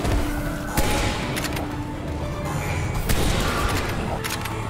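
Rapid gunfire bursts in a video game, with a sniper rifle named, cracking loudly and nearly continuously over dense in-game noise and thuds.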